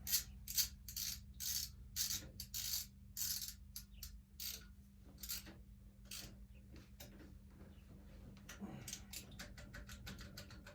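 A socket wrench ratchets on a bolt of a small-block Chevy engine during a serpentine belt conversion, producing bursts of quick close clicking with pauses between them over a low steady hum, no talking.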